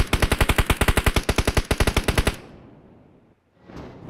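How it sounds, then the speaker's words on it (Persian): Rapid automatic gunfire in the battle royale game PUBG, a loud sustained burst of evenly spaced shots lasting about two seconds, then fading into a quiet echoing tail with faint rustling. "الکی صدا تیر دادم بترسه"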